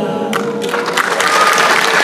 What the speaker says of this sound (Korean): 여러분 박수 외치세요